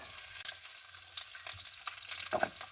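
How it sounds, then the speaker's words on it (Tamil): Garlic fries in hot oil in a pan for a Tamil drumstick curry, a steady close sizzle and crackle with small pops and no talking. "அட பட்டன்னு இப்படி பொரியுது பாருங்க, அழகா."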